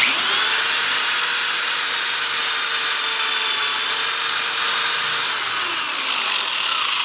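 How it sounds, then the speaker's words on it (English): A power drill whines loudly and continuously as it drills out metal rivets on a camper sidewall, its high pitch holding steady before easing off at the end. "I've used that drill bit quite a few times to drill rivets out"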